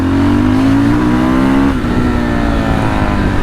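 A loud, close Fantic Caballero Flat Tracker 500 motorcycle engine drones and revs, its pitch holding high and then dropping off as the throttle eases.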